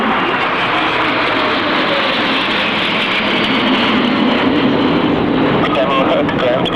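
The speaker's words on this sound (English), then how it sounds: "Arriving with the national colours of Spain and those little Casa 101 Aviojet aircraft in that very intense colour scheme" Spanish national aerobatic team's Casa 101 Aviojet jets arriving at an airshow, a broad, steady jet roar sustained throughout with a faint commentator voice underneath.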